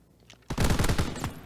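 Rapid automatic gunfire in a Call of Duty WWII online tournament match, a loud close burst of quick repeated shots lasting about a second after a quiet moment.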